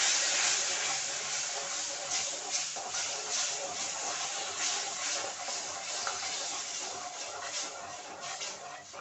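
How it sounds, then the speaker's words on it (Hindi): Steady broad hiss of steam as water is poured into hot semolina halwa, loud and continuous with faint rustling underneath. "पानी डालते हुए ध्यान रखेंगे कि भाप आपके हाथ में ना लगे"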